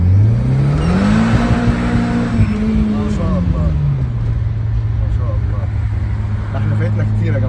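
An Audi running on ethanol fuel revs up, its engine note rising, holding, then falling back to a steady loud hum as the car drives on, with a voice speaking over it.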